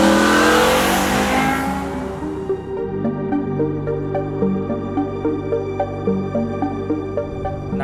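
A manual BMW M5 Touring estate's engine revs to a loud, high scream, then drops into a steady, rumbling drone with rhythmic pulses, heard close with no talking.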